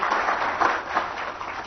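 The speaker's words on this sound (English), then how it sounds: "a big round of applause." Steady applause from a conference audience at a diamond and jewellery industry gathering, a dense wash of many hands clapping continuously at moderate loudness, fairly distant, with no talk over it.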